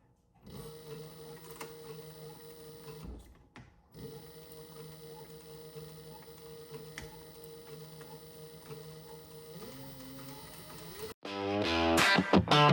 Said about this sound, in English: We're working on the Cobra Class 26 from Leather Machine Co.